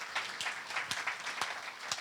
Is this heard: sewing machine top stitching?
no